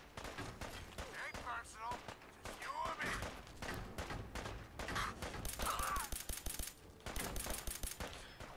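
Repeated gunfire in the post-apocalyptic game Fallout 4, with rapid bursts and scattered shots spread through the stretch alongside a talking voice and ambient game sounds.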